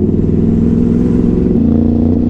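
Ducati Hypermotard motorcycle engine held at high, steady revs with a strong harmonic drone that shifts pitch slightly midway as the front wheel lifts, loud and close with no talking.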